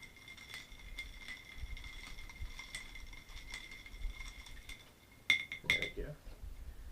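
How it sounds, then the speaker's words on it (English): A spoon stirs a vodka cocktail in a glass, giving soft, rapid clinks with a faint ringing tone, ending in a couple of sharper knocks against the rim. "Now you want to give this a good stir."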